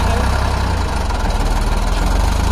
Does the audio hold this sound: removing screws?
no